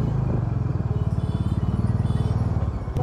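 A motorcycle on the mountain road to Kedarnath, its engine thumping in a steady, rapid pulse nearby, loud and continuous, with a rumbling clatter underneath.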